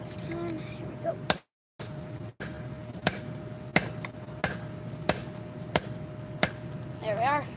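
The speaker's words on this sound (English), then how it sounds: "Let get. the hammer do the work, buddy, Wood Pigeon says" A hammer strikes hot metal at a forge, flattening it with about eight sharp, ringing blows spaced roughly half a second to a second apart, close and clear over a steady background hum.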